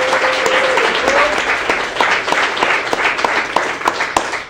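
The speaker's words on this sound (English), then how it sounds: "how about a round of applause for one and only Jim." Audience applause at a live Western States trail race broadcast, a dense steady wash of clapping running the whole stretch with a few sharper individual claps standing out near the end.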